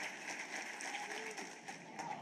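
Crowd noise from fans at a college baseball game between Kansas State and Oklahoma, a steady broad murmur and cheer backing a sophomore right-hander pitching in the top of the first, with a voice speaking over it.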